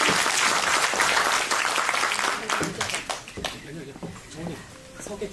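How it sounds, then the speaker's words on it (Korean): Loud, dense audience applause fills a book concert hall, strongest over the first two and a half seconds, then thins and fades as voices take over. "여러분 큰 박수로 환영해 주십시오."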